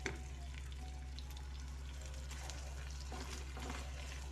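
Ground meat and egg frying in a pan, a steady close crackling sizzle with scattered pops over a constant low hum, no talking.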